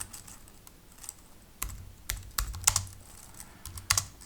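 Fingers type an email body on a computer keyboard: irregular close key taps, sparse at first, then quicker clattering strokes with a few louder hits.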